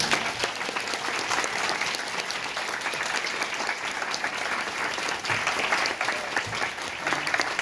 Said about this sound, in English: if we could just get a huge round of applause to both our parents